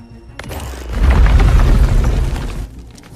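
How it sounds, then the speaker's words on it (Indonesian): A small explosive ball blasts open a cave hole with a loud, deep boom that swells into a rumbling burst of debris for about two seconds, then fades. "Mills memperbesar lubang tersebut menggunakan bola kecil peledak"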